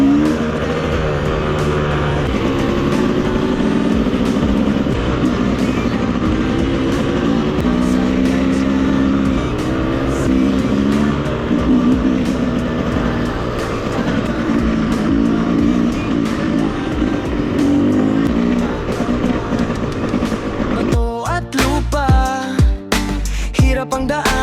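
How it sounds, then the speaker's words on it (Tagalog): A group of eleven trail motorcycles climbing Montalban mountain, engines droning and revving loudly and continuously as they labor up a rough path, with a sharper burst of throttle near the end. "Hirap ang daanan, ingay ng makina sa bundok."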